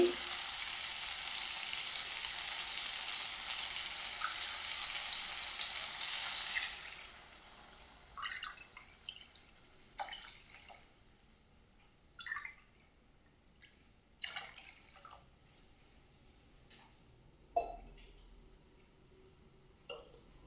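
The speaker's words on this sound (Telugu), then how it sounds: "ఇప్పుడు ఇందులో వాటర్ పోసుకోవాలి" Water is poured into a hot pot of tomato dal made with moong lentils, a loud hissing sizzle for about seven seconds that gives way to scattered drips and small splashes.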